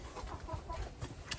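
A rooster on a small farm clucks softly near a chicken coop at dusk, a few short low murmuring clucks scattered through a quiet stretch with no talking.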